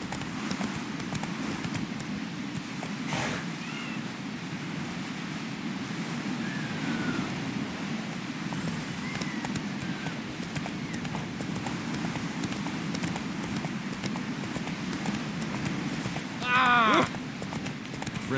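Roach the horse gallops in The Witcher 3 with fast, steady hoofbeats running the whole way under wind and ambient noise, and a brief whinny near the end.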